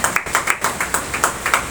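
A church congregation clapping in a steady, rhythmic beat, about six claps per second, moderately loud and close, with no talk over it.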